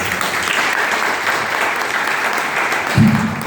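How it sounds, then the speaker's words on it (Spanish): Loud, steady applause from an audience at a book presentation, a dense wash of clapping that continues throughout, with a low rumble near the end. "Fuerte aplauso."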